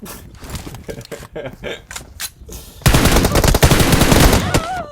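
Video game gunfire, scattered single shots giving way to a loud sustained burst of rapid automatic fire, with a player's voice briefly heard.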